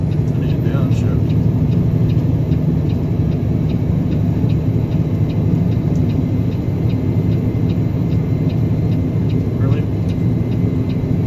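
A vehicle engine drones steadily as it climbs the mountain road up Vail Pass after a downshift, a constant loud cabin rumble with a faint rhythmic ticking above it.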